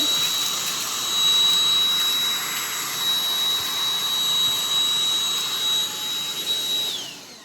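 A cordless Black+Decker Dustbuster handheld vacuum with its wand extended whines at a high steady pitch up close while sucking up popcorn kernels, running continuously before powering down at the end.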